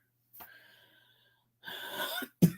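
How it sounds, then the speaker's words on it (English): A few sharp, breathy bursts like coughs and a sniffle from allergies, separated by short pauses, fairly close and alone. "I have really bad allergies today, so that's why I'm coughing and sniffling"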